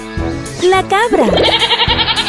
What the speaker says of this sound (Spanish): La cabra.